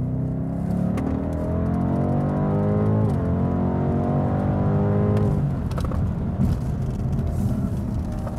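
A 620 PS AC Schnitzer BMW M850i in Sport Plus with stability control off accelerates hard on a fast lap, its engine note climbing loudly with upshifts before settling into a rougher, sustained roar.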